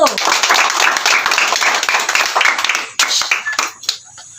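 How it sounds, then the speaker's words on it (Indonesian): A group claps in a classroom Sunday school session, steady hand clapping for about three and a half seconds before tapering to a few scattered claps and stopping. "Berikan tepuk tangan untuk kelompok 1."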